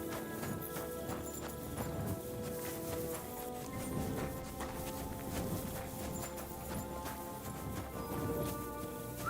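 Horse hooves clip-clopping steadily in the medieval video game Kingdom Come, a continuous rhythmic walking gait at moderate volume over a background game ambience.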